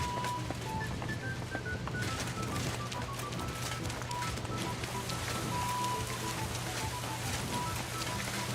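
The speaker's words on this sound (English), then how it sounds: "A little bit of rain never hurt anyone." Steady rain patters softly across a surface in the video game Kingdom Come: Deliverance II, a continuous hiss with scattered drops and a faint low hum underneath.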